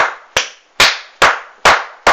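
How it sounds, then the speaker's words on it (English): Hand claps at a rally-style song about helping the homeless, five sharp, loud claps at a steady, slightly uneven rhythm about every half second, each ringing briefly before the next. "Keep clapping."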